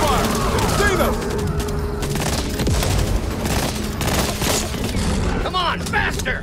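Dense gunfire in the zombie shooter Back 4 Blood, rapid bursts and booming shots crackling loudly and continuously, with shouted game voices and squad callouts mixed over the firefight.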